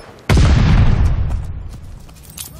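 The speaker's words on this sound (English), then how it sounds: "Stun grenade out." A single loud, close stun grenade blast in Call of Duty Vanguard booms suddenly, then its rumbling roar slowly fades over the next two seconds.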